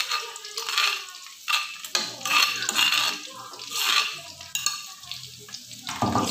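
Ground spice paste going into a hot pan, with sizzling and frying plus repeated scraping and clinking of a utensil against the pan, moderately close and steady, with no one speaking.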